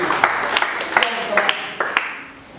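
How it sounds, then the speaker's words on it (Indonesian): Scattered hand claps pop out over a church congregation and a preacher's talking voice, irregular and moderately loud, tapering off toward the end. "Kita beri tepuk tangan."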